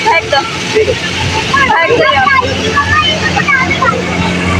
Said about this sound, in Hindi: यहाँ पे देखें बोट जा रही है, तो ये फैमिली बोट है